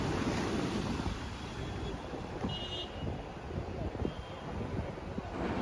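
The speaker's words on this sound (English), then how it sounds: "the waves crashing against the huge tetrapods along the coastline is an amazing sight to watch" Sea waves crash steadily against huge concrete tetrapods along a cloudy Mumbai coastline, a continuous loud roaring wash mixed with wind buffeting the microphone.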